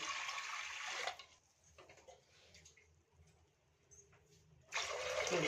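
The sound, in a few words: water poured into pressure cooker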